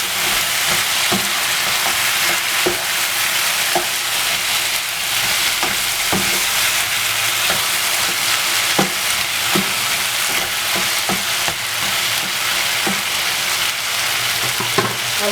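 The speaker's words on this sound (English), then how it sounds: "I'll cover to fry a little bit" Meat and potatoes frying in a pan with soy sauce, a loud continuous sizzle and hiss close up, with occasional small clicks and pops throughout.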